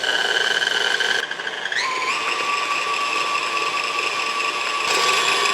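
An electric hand mixer whirs while beating a cream cheese fruit dip, a close steady motor whine that shifts up in pitch partway through as the speed changes, with no talking.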